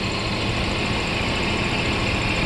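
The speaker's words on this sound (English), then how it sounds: "this engine doesn't sound happy" A 1994 Mercedes SL600 engine in limp mode idles roughly and steadily, a dense low rumble with uneven vibration and no talking.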